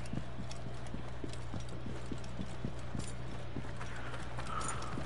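Horse hooves clip-clop at a steady, even trot in the Assassin's Creed Origins video game, set in a desert, quiet and regular over a constant low hum.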